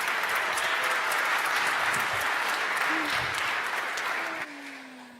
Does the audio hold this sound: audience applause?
yes